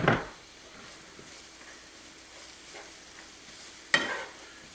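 Chicken stirring and frying gently in olive oil for a chicken tikka masala, with a soft steady sizzle and two brief stirring scrapes, one at the start and one near the end.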